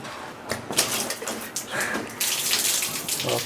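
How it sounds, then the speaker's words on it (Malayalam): Water poured over a water-resistant wall panel, splashing and trickling in an uneven stream for a few seconds, close by with no talk. "ഇത് മുഴുവനായിട്ട് വെള്ളം ഒഴിച്ച്"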